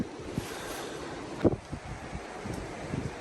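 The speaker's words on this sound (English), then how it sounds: "You can probably hear the wind there" Wind gusts blow outdoors in a quiet natural setting, a steady soft rush with occasional louder buffets against the microphone, faint and alone without talk.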